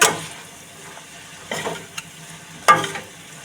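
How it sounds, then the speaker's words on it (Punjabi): A pan of spaghetti noodles tossed with masala is stirred, with scraping and rustling strokes in a few short bursts over a faint sizzle. "ਇਹਨਾਂ ਪਾ ਕੇ ਚੰਗੀ ਤਰ੍ਹਾਂ ਕਰਾਂਗੇ ਜੀ ਮਿਕਸ"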